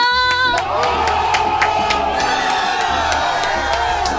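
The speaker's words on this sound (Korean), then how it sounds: "여러분 4일 만에 돌아온 우리 편집자한테 박수 한번 보내주세요" A group cheers and whoops loudly for a returning editor, voices shouting and hollering together up close, with a short high tone at the start and no clear speech.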